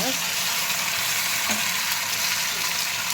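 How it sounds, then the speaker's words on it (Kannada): Masala frying in a hot pan gives a dense, steady sizzle, loud and constant throughout with a faint clink of stirring. "ನೋಡಿ ಇವಾಗ ಹಾಕ್ಕೊತಾ ಇದ್ದೀನಿ ಮಸಾಲೆನ."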